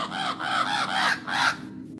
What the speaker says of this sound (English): You hear them just going caw, caw, caw, like crows usually do.